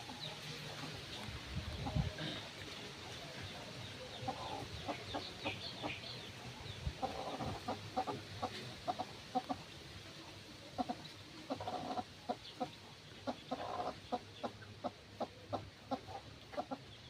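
Chickens and four young chicks cluck and peep in a yard, a run of short repeated calls that grows busier and more rhythmic toward the end, fairly quiet and without talk over them.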